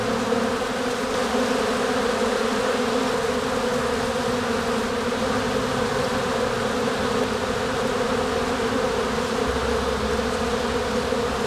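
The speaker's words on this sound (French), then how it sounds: "Ça va être plus simple de défendre pour les abeilles de la ruche." A dense, steady drone of many honeybees buzzing together, continuous and close, with no voices.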